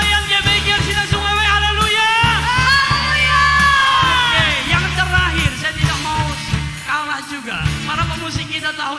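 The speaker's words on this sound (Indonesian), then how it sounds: "tepuk tangan dulu untuk mereka" A church congregation cheers and whoops loudly over a steady low hum and organ-like tones, with overlapping shouts and sustained vocal cries rising and falling across several seconds.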